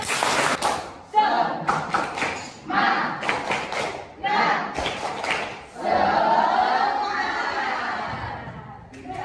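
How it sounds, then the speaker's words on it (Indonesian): A group of children performs a rhythmic Indonesian clapping chant, the voices chanting in bursts punctuated by sharp, patterned claps and thumps, loud and close, with chuckles and crowd murmur between the phrases. "Tepuk semangat."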